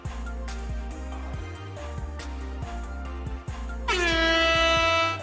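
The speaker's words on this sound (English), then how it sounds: "Did you hear the air horn?" A rhythmic musical beat plays on a Pokémon trading card game tournament live stream, then a loud, blaring air horn blast cuts in and holds near the end.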